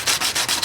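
Sanding epoxy primer on a 300ZX car body with a 2JZ swap, heard as steady rhythmic rubbing strokes of sandpaper on the panel, about four close, even passes repeating with no talk.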